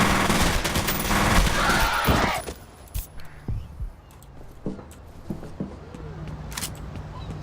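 A gun in the shooter F.E.A.R. fires a loud sustained burst of rapid shots, followed by scattered single shots, clanks and impacts at lower volume.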